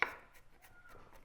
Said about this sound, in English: We have our garlic, we have our onions, and kind of finely chopping it all together